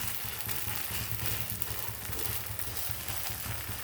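Pearl millet dosa cooking on a hot pan after being flipped gives a steady, close sizzle with no speech, along with a low rhythmic hum underneath.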